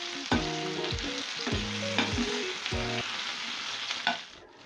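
Beef frying in groundnut oil in a pan, a constant bright sizzle close by, overlaid by a few short tonal clanks and scrapes of a utensil against the pan.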